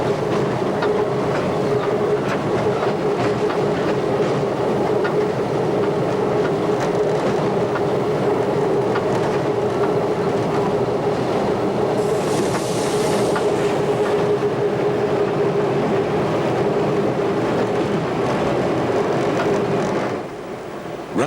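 A battery locomotive train runs on rails through Elm Park Station, a loud continuous rumble with steady rhythmic clatter of wheels and a sustained tonal drone, briefly joined by a hissing burst partway through.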